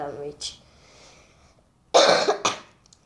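A person coughs two or three times in sharp, loud bursts close to the microphone late at night, with a voice talking briefly before the coughs.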